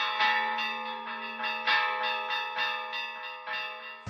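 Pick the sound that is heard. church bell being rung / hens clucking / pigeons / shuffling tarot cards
church bell being rung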